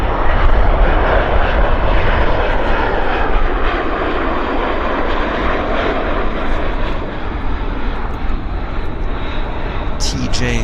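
An airliner arrives and rolls out on the runway at Vancouver Airport, a loud sustained engine roar that eases slightly as it slows, with a person speaking over the noise.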